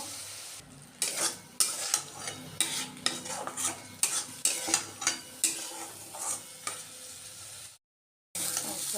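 Masala for a duck egg curry being stir-fried in a pan, with a loud steady sizzle and repeated rhythmic scraping strokes of a spoon against the pan, stopping for a short silent gap near the end.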